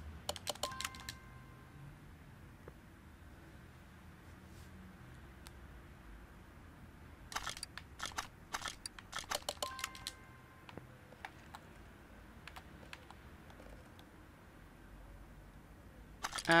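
A spring puller works on a shock absorber in Car Mechanic Simulator during a Mazda RX-7 build, giving off sharp mechanical clicks in a short burst, then a longer cluster of rapid clicks after a quiet stretch, over a low steady hum.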